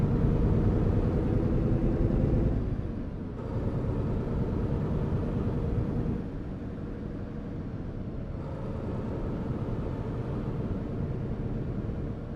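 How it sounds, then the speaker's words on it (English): A truck in Euro Truck Simulator 2 drones with a low, rough engine rumble, shifting in pitch and level a few times as it strains along, with no voices over it. "Well, the truck is making some nasty noises."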